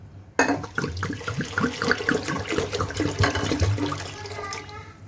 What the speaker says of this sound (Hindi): पानी डाल दूंगी साथ में।